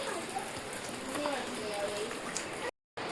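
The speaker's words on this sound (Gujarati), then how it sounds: "બહુ વરસાદ અમારે તો આવ્યો છે. બંધ થવાનું નામ નથી લેતો, હજી ચાલુ જ છે." Heavy rain pouring down outside a home during a long wet spell, a dense steady hiss close by that runs unbroken until it cuts off abruptly near the end.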